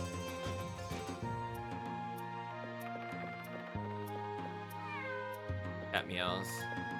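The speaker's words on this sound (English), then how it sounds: "Cat meows." A cat meows over steady game music, the meow coming as a short, rising and falling cry near the end, with other game sounds continuing underneath.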